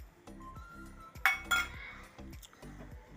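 A spoon clinks repeatedly against a pot as ground coconut paste is stirred into cooked lentils and spinach, giving a steady rhythm of close metallic taps with a couple of louder knocks, and no talking.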